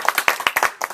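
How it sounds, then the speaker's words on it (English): A small audience at a Toastmasters meeting claps by hand, with distinct individual claps in an uneven, lively rhythm, close and fairly loud. "let's give them a round of applause for the great work"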